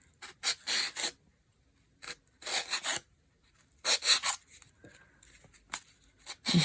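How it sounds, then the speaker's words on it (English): A flat file rasping along the edge of papered chipboard in short bursts of strokes with pauses between, close and fairly quiet. "I have this flat file, or you can use an emery board, and you're just going to push towards the inside along that"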